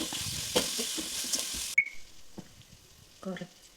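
Onion, green chili and curry leaves sizzle in a hot pan, a bright frying hiss with scraping stirs that suddenly drops to a quieter simmer partway through, and a voice speaks over it.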